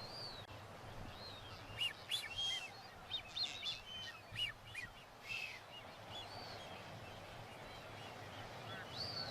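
Faint, high whistled calls of a male blue-footed booby repeat in a loose series of short bursts over a low background rumble, with a few louder peaks midway, in the Galapagos.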